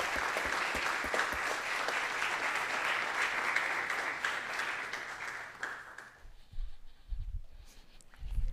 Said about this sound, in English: Please join me in a round of applause welcoming our panel.